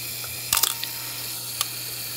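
Canon F-1 film camera firing with mirror lockup: a quick double mechanical clack of mirror and shutter, then a lone sharper click about a second later, close and crisp over a low steady hum.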